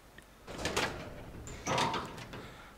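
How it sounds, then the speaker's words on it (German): Two heavy door-opening effects from the video game Resident Evil Zero HD Remaster, each a clunking mechanical unlock followed by a scraping swing, spaced about a second apart at moderate loudness. "Tür wurde aufgeschlossen."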